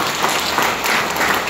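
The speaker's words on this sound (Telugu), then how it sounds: "వీలైతే ఒకసారి గట్టిగా క్లాప్ చేయండి" Audience at a business talk claps loudly, a thick, continuous roar of many hands that holds steady and close for the whole stretch, with no voices over it.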